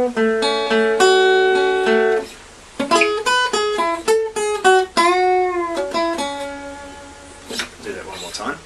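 A guitar plays a melodic lead line, the second part of a song's lead: a run of clear picked notes, some sustained with sliding or bent pitch, with brief pauses in between, close and fairly loud, without talk.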